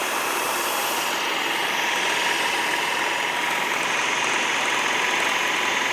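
A food processor chops basil for pesto with a loud, continuous whirring motor that holds steady throughout, with no voices.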